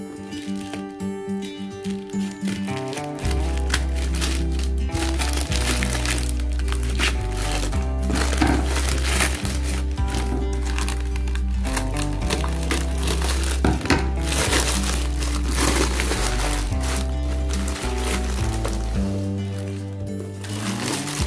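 A portable windproof camping stove set is unboxed with continuous crinkling and crushing of packaging plastic and cardboard, close and busy throughout, with no talk.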